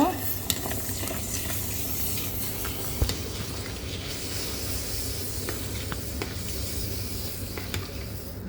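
Couscous is tipped into a pan and stirred, giving a steady soft hiss and scraping with a few light knocks of the utensil against the pan, close by.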